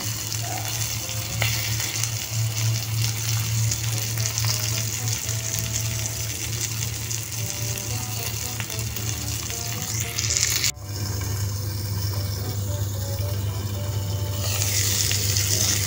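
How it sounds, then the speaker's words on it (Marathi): Cumin, mustard seeds and asafoetida sizzling in hot oil for a tempering while stuffed capsicum is cooked; a steady, close frying hiss runs throughout, with a brief clatter near the end. "मी तेलात जिरे मोहरी आणि हिंग टाकले।"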